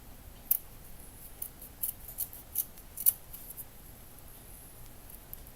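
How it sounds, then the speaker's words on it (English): Scissors snip off excess material during an indoor bedroom build: a series of sharp, close cuts in quick bursts, then quieter, with no talking. "So just cutting off the excess"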